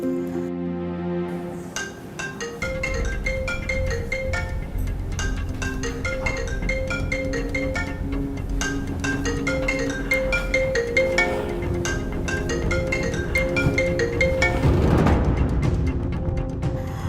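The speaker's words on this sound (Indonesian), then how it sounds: "Aku coba telepon Mas Aldi." A mobile phone ringtone plays a looping melodic tune at midnight in an Indonesian TV drama, steady and fairly loud, repeating for many seconds with no voices over it.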